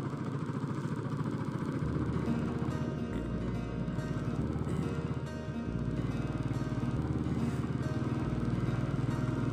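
Motorcycle engine droning steadily as the bike rides along a winding road, a constant, moderately faint mid-pitched hum without pauses and no talking.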